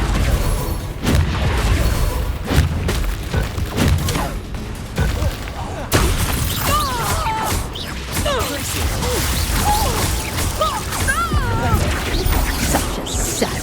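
Spell combat in Hogwarts Legacy with Bombarda explosions: a series of heavy crashes and booms, one sharp blast near the middle, mixed with whooshes and warbling magical tones, loud and close.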